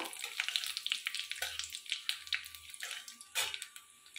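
Oil crackles and sizzles steadily as nigella seeds and dried red chilies fry, with a few louder pops and bursts of spattering near the pan.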